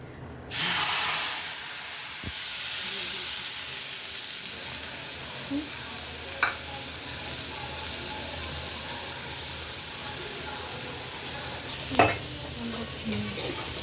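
Tomato, ginger and green chilli paste poured into hot oil with cumin in a pan gives a loud burst of sizzling that settles into a steady hiss, with a few faint spoon taps later, no talking over it.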